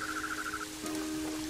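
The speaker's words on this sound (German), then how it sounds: "Und jetzt regnet es." Rain in the video game Planet Zoo, a faint steady hiss of falling rain with a soft tonal chirp over the first half and a low hum underneath.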